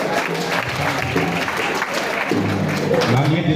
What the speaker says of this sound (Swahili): Tũhũrĩre Papasi makofi.